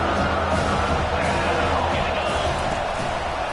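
Stadium crowd roars in the NCAA 25 college football video game, a dense steady wall of cheering that holds at full volume throughout without letup.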